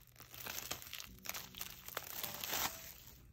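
Thin plastic wrap on a K-pop mini album crackles and crinkles in quick close bursts for a few seconds as the packaging is torn away, with no talking.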